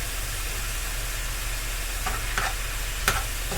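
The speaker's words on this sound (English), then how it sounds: "While the meat is browning up," Ground meat browns in a pan for shepherd's pie with a loud, even sizzle that runs the whole way through. Near the end come a couple of faint scrapes from a utensil.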